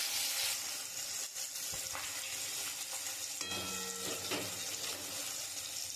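Hilsa fish pieces coated in spice paste frying in mustard oil in a wok with black cumin, a close, hissing sizzle that swells and crackles, mixed with watery splashing and brief clanks.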